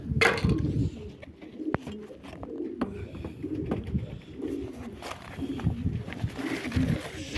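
A turtle dove coos in low, soft, repeated notes near a poultry coop, against outdoor background noise and faint rustling.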